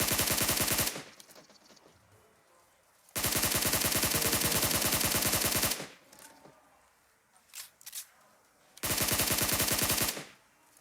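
Automatic gunfire in the mobile game PUBG Mobile comes as three long, loud sustained bursts separated by quieter gaps holding faint scattered sounds, with no speech.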